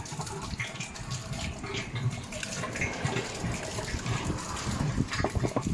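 Water pours steadily from a biosand filtration unit after passing through heavily rust-stained water, a continuous close splashing gush that fills the whole clip, with nothing else standing out.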